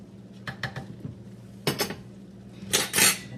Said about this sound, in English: Lid off. Stir it up a little bit.